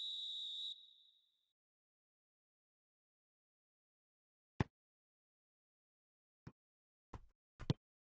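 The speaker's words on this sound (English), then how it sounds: "Whistle's gone, that's a foul." A referee's whistle blows a single short, shrill blast for a foul in a football match, then fades into near silence broken by a few faint, sharp knocks.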